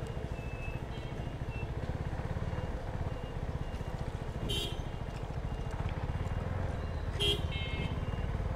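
Horn of a CFMOTO NK250 motorcycle sounding in two short honks over steady engine and road rumble, with faint voices in the background.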